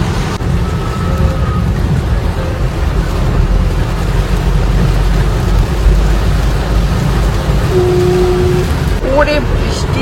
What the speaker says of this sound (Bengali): বৃষ্টি হচ্ছে আর তার সঙ্গে আবার বাজও পড়ছে টুকটাক রাস্তার মধ্যে, প্রচন্ড বৃষ্টি এসে গেছে।